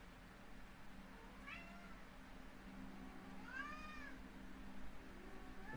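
A real cat meows twice, a short faint call then a longer rising-falling meow, over a steady low hum of background noise, with no talking.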